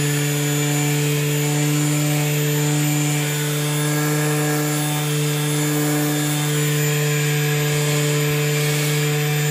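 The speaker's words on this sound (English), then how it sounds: "Then I give it a quick sanding to remove all that staple pin holes" Steady, loud whine of a power sander grinding against wooden stairs, continuous and close, with no talking.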